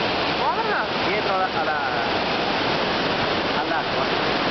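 Iguazu Falls roar with a loud, unbroken wash of falling water, close and steady, while voices talk over the rush.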